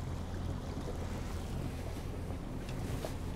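An Axopar 22 Spyder boat runs over water near the dock with a steady low engine and hull rumble, wind buffeting the microphone and wash from the waves, and no one speaking.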